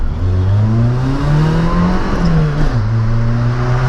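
A Citroën Saxo rally car with a 2.0 engine revs loudly and steadily up close, its pitch rising and falling through several throttle blips over a continuous throaty drone.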